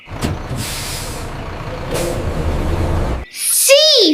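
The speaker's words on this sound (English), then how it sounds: "B for bus." Bus or truck air brakes hiss in bursts over an idling engine, followed by a short cartoonish electronic tone at the end.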